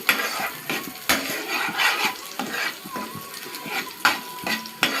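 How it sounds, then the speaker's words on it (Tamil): Eggs being stirred with salt in a pan into a crumbly scramble, the spatula scraping and clinking against the metal in a steady irregular rhythm over a soft continuous sizzle, close and alone without talk. "4 முட்டை ஆட் பண்ணிவிட்டு உப்பு போட்டு நல்லா பொடி மாஸ் மாதிரி கிண்டிக்கோங்க."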